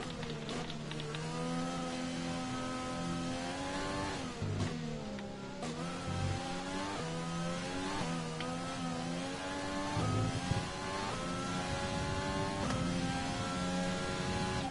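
A Formula 1 car engine from the F1 2020 racing game, during the Chinese Grand Prix, drones steadily throughout, its high harmonic whine rising and falling through gear shifts and throttle changes, with no talk.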